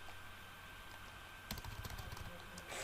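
Typing on a computer keyboard while writing a freelancer profile description: a burst of quick, close keystrokes starts midway and runs steadily to the end over a quiet background hum.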